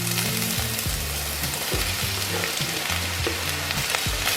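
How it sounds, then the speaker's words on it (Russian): Sliced mushrooms and onion frying in a skillet, a steady bright sizzle with occasional stirring scrapes and low clinks, close and continuous, with no voices. "Лук обжарился, добавляю в сковородку грибы"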